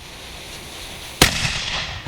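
A Traditions Napoleon III miniature cannon fires once with a sharp, loud boom after a hissing fuse, followed by a rumbling echo that trails off outdoors.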